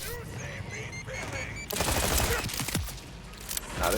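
A revolver in Borderlands 4 empties its whole magazine in a rapid string of loud shots that follows some game creature noises, with the gunfire dominating the last couple of seconds.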